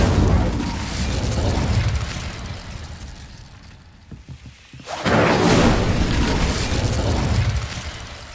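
A loud fiery blast from the Incendio spell in Hogwarts Legacy, a roaring boom that rumbles for several seconds, dips briefly into a quieter crackle, then surges back into a second heavy burst.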